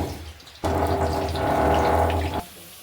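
Potato chips dropped into hot oil set off a loud, steady, broadband sizzle that starts abruptly, holds for about two seconds, then cuts back to a quieter background.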